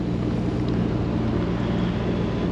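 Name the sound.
boat engine running on the Norfolk Broads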